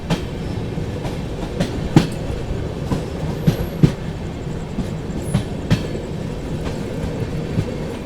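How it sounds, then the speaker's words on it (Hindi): The New Delhi Lucknow AC Superfast Express rolls through a station loop with continuous rumbling and periodic clickety-clack of wheels over rail joints, heard from inside the train at moderate loudness. "अपनी ट्रेन को लूप में लेकर के कोई स्टेशन जो है इंटरमीडिएट स्टेशन स्किप कराया जा रहा है"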